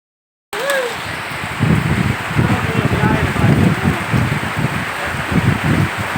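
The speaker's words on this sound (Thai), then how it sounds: "ฝนตก" Rain falls outdoors on a cooking spot where stir-fried cobra with holy basil is being made, a steady loud patter and rustle after a brief silent start, with brief voices.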